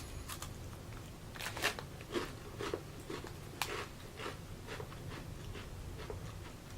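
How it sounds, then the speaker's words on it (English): Crispy, buttery shortbread-like Girl Scout cookies bitten and chewed up close, several sharp crunches early on followed by softer crackling chews, faint over a steady low room hum. "Cookies are super crispy."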